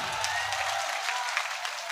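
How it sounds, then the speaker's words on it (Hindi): Brief burst of applause from a crowd at an Urdu poetry mushaira in Biswa, India, steady clapping throughout, moderately loud and somewhat distant. "जोरदार तालियां बजा दीजिए"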